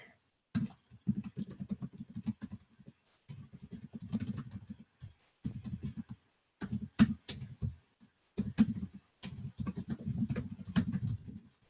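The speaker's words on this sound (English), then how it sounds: "You can probably hear me frantically typing over here." Fast, frantic typing on a computer keyboard in irregular bursts of rapid clicking broken by short pauses, close and moderately loud with no speech.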